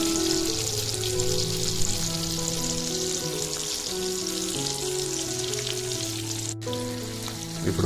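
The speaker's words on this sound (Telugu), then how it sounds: "ఈ విధంగా బాగా వేయించుకోవాలి. అప్పుడప్పుడు ఫ్లిప్ చేస్తూ ఉండండి అటు ఇటు." Sardine fish shallow-frying in a pan keep up a steady, moderately loud sizzle and crackle of oil, with background music running beneath and a single sharp click partway through.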